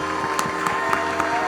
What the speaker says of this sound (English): can we do one more warm round of applause for our presenters tonight?